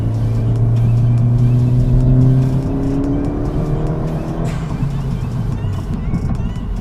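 A 10th gen Honda Civic on a test drive, its engine droning loudly and steadily from inside the cabin while pitch rises and shifts with acceleration, and people talk over it.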